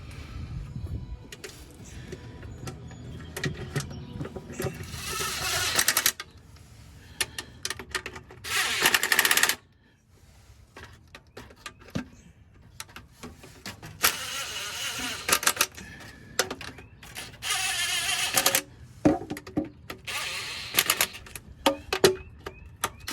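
A ratchet runs bolts into the corners of a Nissan Infiniti automatic transmission pan in a home garage, giving bursts of rapid clicking and whirring with pauses between corners, close and fairly loud.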